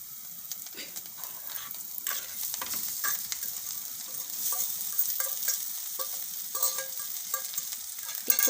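Leftover rotli pieces with fresh coriander and salt being tossed in a pan, a light sizzle under busy, irregular scraping and clattering strokes of a spoon against the pan, no speech.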